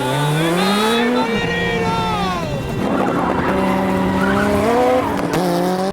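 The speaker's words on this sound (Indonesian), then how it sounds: "Dengan enjoy, dia melajukan mobilnya dan mulai menyalip lawannya satu persatu." Rally car engine revving hard with rising and falling pitch as it overtakes rivals on a rocky road, tires squealing briefly, loud and continuous throughout.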